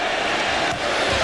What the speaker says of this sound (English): Crowd cheering Rick Mahorn's entry into the game